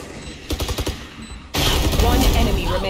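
Rapid gunfire in a Valorant match: a quick burst of several shots, then dense, loud continuous firing with overlapping bursts.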